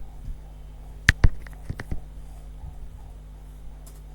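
A command being typed on a computer keyboard comes through as a short burst of a few sharp, close clicks over a quiet, humming background.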